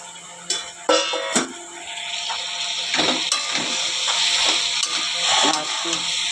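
Jackfruit and potato sauté in a spice paste made without onion, sizzling steadily with clanks and scrapes of a stirring spoon, while a voice talks over the cooking.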